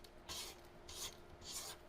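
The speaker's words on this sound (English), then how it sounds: "I'm just scraping down the sides to incorporate the ingredients" A spatula scrapes around the sides of a mixing bowl of batter in a home kitchen, giving three close, soft rasping strokes in a steady rhythm with no voices.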